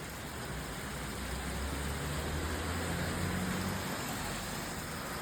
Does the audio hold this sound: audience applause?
no